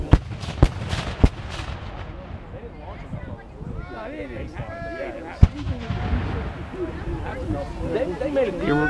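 Cannon fire at a 2016 reenactment of the Battle of Resaca: several sharp, loud artillery booms, three in the first second and a half and another about five seconds in, over crowd chatter and murmuring voices.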